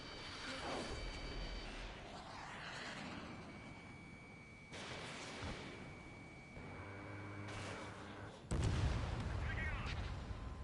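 Missile launches and gunfire crack and boom through an Ace Combat 7 air battle, with bursts of explosions and rumbling under radio voices talking throughout.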